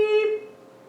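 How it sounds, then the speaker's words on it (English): A multimeter's continuity beep sounds during a short-circuit check on an iPhone board, a single steady electronic tone near and clear that fades out over under a second. "Beep."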